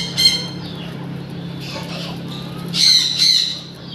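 Fancy chickens at a poultry farm give sharp squawks: one short burst early, then two louder squawks near the end, close by over a steady low hum.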